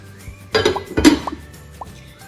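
A pizza pan set down on a stovetop burner in a home kitchen: two close metallic clanks about half a second apart, followed by a few light ringing clinks, then quiet.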